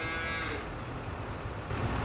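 Cows moo loudly and repeatedly in Farming Simulator 22, close by on a farm in The Valley The Old Farm map, with a low vehicle rumble running steadily beneath the calls.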